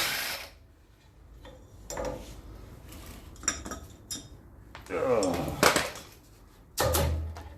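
Metallic clanks and scraping of tools and parts as the last bolt comes out of a Land Rover Series swivel ball housing, irregular knocks and rattles close up, with a voice speaking intermittently.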